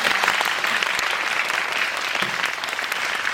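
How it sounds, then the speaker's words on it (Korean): An audience applauds at a film screening talk event, with steady clapping filling the whole stretch at moderate volume. No voices come through. "박수 한번 부탁드립니다."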